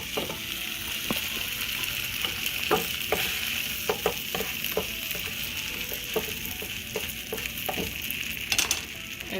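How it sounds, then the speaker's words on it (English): A buttered tortilla sizzles in a hot pan, a steady close hiss of frying broken by soft scraping and tapping from a utensil, with no voices. "when the pan is hot, you're going to put it buttered side down"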